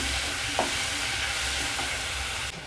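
Tomatoes, green chilies and curry leaves sauté in a pan with a soft, continuous sizzle, close but fairly quiet, with one brief clink of a utensil and the sound easing off near the end.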